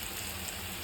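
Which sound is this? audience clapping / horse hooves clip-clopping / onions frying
onions frying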